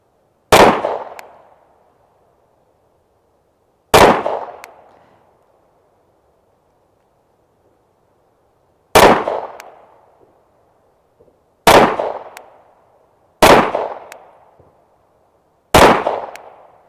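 Six sharp pistol shots from a compensated Sig fired at targets, each a loud crack with a short ringing decay, spaced irregularly a few seconds apart with quiet between.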